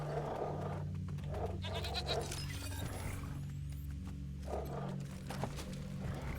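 A goat in Wasteland 3 lets out loud, repeated bleats over a steady low in-game ambient hum, the calls coming in several bursts across the stretch.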